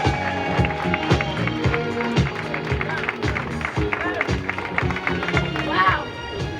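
A crowd at a Las Vegas justice vigil and youth rally applauds and cheers for a youth speaker, sustained clapping mixed with shouts and voices, with rhythmic thumping underneath throughout.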